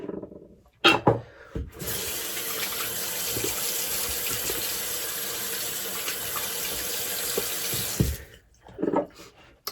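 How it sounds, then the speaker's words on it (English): A bathroom tap runs steadily for about six seconds while a face is wetted for shaving, with splashing and handling sounds before and after the flow. "So I'll wet my face."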